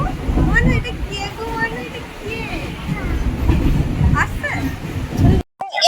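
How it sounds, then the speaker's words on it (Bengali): A local train pulls into Sealdah station with a steady rumble and rolling wheel noise, loud and continuous, and people talk over it throughout. "এই যে পেছনে দেখতে পাচ্ছ লোকাল ট্রেন"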